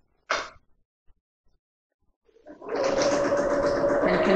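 A sewing machine starts up and runs steadily, stitching a seam on a Butterick 5137 performance dress after a brief click and a pause.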